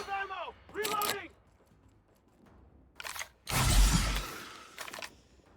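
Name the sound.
weapon reloading in The Outer Worlds video game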